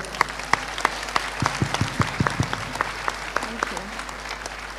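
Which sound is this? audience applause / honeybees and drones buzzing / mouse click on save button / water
audience applause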